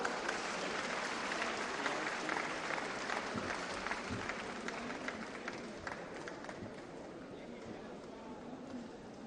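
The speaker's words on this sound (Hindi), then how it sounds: "आप सभी की जोरदार तालियों के साथ" An audience at the inauguration of the India International Science Festival on the MANIT campus in Bhopal gives sustained, dense applause for a newsletter release, steady and fairly loud from start to finish.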